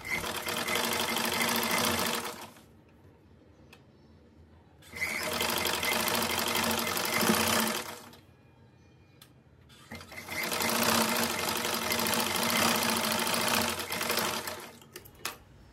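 A sewing machine stitches jeans fabric up close, running in three loud sustained bursts of a few seconds each, separated by quiet pauses while the fabric is repositioned.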